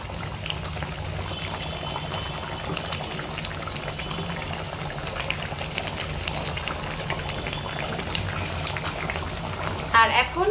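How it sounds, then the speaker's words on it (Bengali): Boal fish curry cooking in a covered pan gives a steady, dense bubbling and hissing simmer throughout, with a few brighter clinks and splashes near the end. "দেখো ভালো মতো ফুটে গেছে।"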